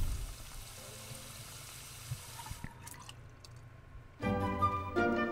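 Water runs and drips in The Sims 4, a faint, steady wash of liquid that gives way to louder game tones near the end.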